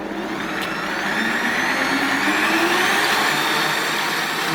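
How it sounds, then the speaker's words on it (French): An electric stand mixer whips cream with a loud, continuous whirring drone that stays even throughout, with no voices. "Dans mon batteur, j'ai mis la crème que je vais monter."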